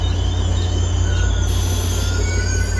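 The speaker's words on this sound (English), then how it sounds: "That's train 312. He's doing it 6:50." Caltrain commuter train passing trackside, a loud continuous high-pitched wheel squeal over a heavy low rumble, sustained throughout and close by.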